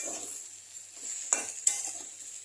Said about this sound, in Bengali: এখন চাল দিয়ে এটাকে ভালো করে এটাকে মিক্স করবো